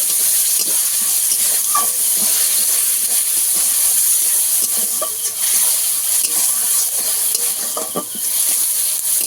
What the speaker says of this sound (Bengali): দুটো টমেটো যে গেট করে নিয়েছিলাম দিয়ে দেবো এবার সমস্ত মশলা একসঙ্গে ভালো করে একটু কষিয়ে নেব